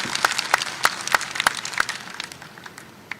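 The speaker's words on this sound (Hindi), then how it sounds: "ताली बजा कर माननीय मुख्यमंत्री का स्वागत करें" Scattered claps from a crowd at a Bhopal gathering of cobblers, welcoming Madhya Pradesh Chief Minister Shivraj Singh Chouhan: a handful of sharp, separate claps in an irregular rhythm that thin out and fade within a few seconds.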